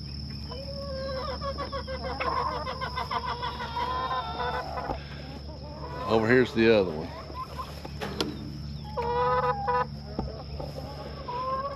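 Chickens on a homestead cluck and squawk in short bursts close by, mixed with a person talking, with meat birds penned nearby.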